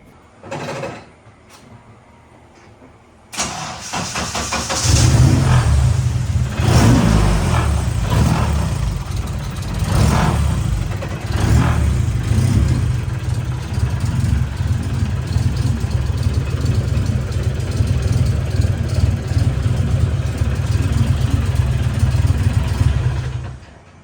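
A few clunks, then a turbocharged K24A2 engine in a Miata, on jack stands, cranks, catches and runs loudly and roughly, with uneven revving bursts before settling into a steady rumble.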